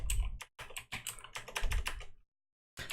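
Close, quiet keys clatter in quick bursts as code is typed on a computer keyboard, with short pauses between runs and a longer gap before a final burst.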